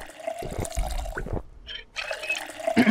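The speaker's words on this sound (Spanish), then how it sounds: "el agua, llena la botella." Water pouring into a bottle in the zombie survival game Project Zomboid, a brief liquid trickle rising among busy game sounds, with a short gap of near silence in the middle.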